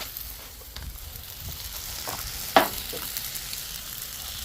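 Udon noodles sizzle in a hot pan with a steady crackling hiss, broken by one brief sharp clatter partway through.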